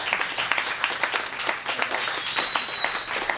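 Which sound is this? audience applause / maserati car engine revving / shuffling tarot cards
audience applause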